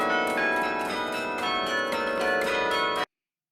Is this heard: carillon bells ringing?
yes